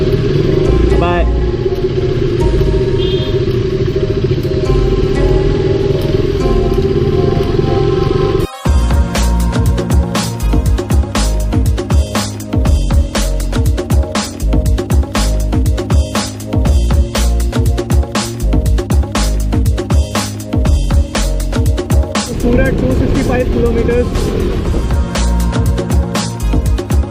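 A KTM RC200 motorcycle rides along on a road trip, its engine droning steadily and loudly with wind and road rumble throughout, and a sharp change in the noise partway through.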